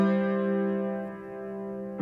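A cadential six-four chord in four-part harmony, a tonic six-four resolving toward the dominant, sounds as a sustained instrumental chord that holds steadily, then shifts with a fresh attack near the end, with no talking.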